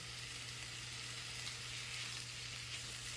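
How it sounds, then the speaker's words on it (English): Lamb browning in a hot cast iron tagine, a low, even sizzle running continuously under a faint steady hum, quiet and unbroken throughout. "what we want to do is get this browned on all sides and sealed so it keeps the flavour"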